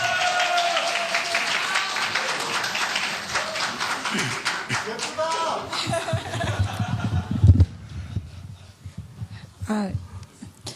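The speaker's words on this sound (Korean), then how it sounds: "여러분 뜨거운 박수로 환영해 주시기 바랍니다." A crowd at a Jeju political party rally applauds a candidate for the party's supreme council, with steady, dense clapping close by that mixes with talk and a few laughs before it thins out near the end.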